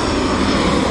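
A Ryanair Boeing 737-800 landing at Rome Fiumicino gives a loud, steady, broadband jet roar that fills the whole short moment, close and unbroken.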